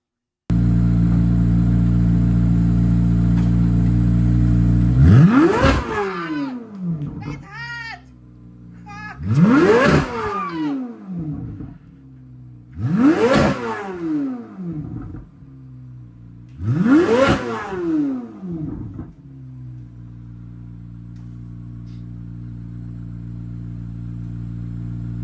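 A C8 Corvette Z06 engine revs hard four times in succession, each sharp climb and fall rising from a steady idle, loud and close, with no voices.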